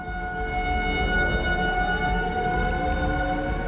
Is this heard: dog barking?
no